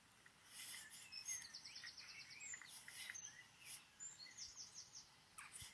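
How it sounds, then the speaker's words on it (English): Birds calling from woodland trees, several short high chirps and twittering notes scattered throughout, fairly faint and distant over a soft background hiss. "We also have different bird species nesting amongst the tree."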